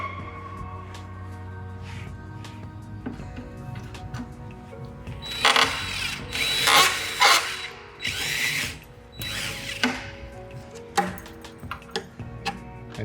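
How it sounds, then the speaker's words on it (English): Drilling out a rivet in the OEM rocker panel of a 2020+ C8 Corvette: several loud, harsh drill bursts of a few seconds each, separated by quieter ticking and tool handling. "to drill out the rest of that rivet or push it through."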